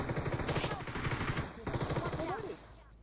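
Rapid bursts of automatic gunfire from a battle royale video game, loud and close, rattling in quick repeated volleys that stop near the end, with a voice speaking over part of it.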